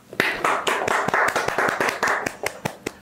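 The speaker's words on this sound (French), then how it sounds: "Je vous demande de faire un tonnerre d'applaudissements derrière vos écrans" Applause for a make-up artist guest, heard as sharp, evenly spaced handclaps in a quick rhythmic beat, close and fairly loud with nothing else over them.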